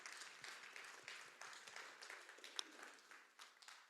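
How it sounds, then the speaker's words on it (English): Faint audience applause from a seated crowd at a lunch-and-learn talk, a steady wash of distant clapping that carries on for several seconds without any voices over it. "We can give them one more round of applause"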